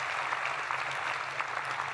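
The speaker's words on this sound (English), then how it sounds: "Give yourselves a round of applause" Audience at an aerospace centre clapping in a large hall, a steady mid-distance patter of many hands across the whole moment with no speech.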